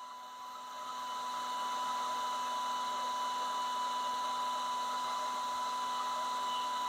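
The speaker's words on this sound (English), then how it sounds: "We turn it down to low heat." A hair dryer runs on its low heat setting, a steady close-up whooshing blow of air with a constant motor whine that builds slightly at first and then holds evenly.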